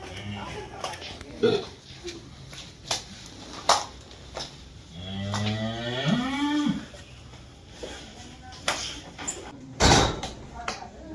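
A cow, one of a pair of large cattle weighing about 1.2 tons, lets out one long, drawn-out moo partway through, amid clattering knocks and scattered background noise.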